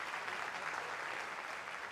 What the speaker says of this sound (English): Please, once again, a round of applause.